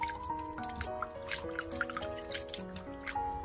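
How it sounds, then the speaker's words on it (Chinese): Celery roots rinsed by hand in a bowl of clean water: close, small drips and trickles with soft sloshing splashes, over faint steady background music tones. "重新加入适量的清水，把它多淘洗两遍"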